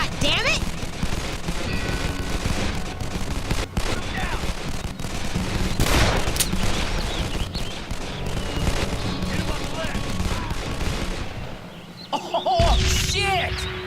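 Dense gunfire in the Call of Juarez: The Cartel video game, with rapid bursts and sharp shots crackling almost continuously, loud and near, while voices shout over the fight before a brief lull near the end.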